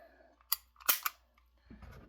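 A Beretta M9A3 CO2 pistol with no magazine fitted is uncocked, producing a few sharp, close metallic clicks in quick succession followed by a softer handling rattle.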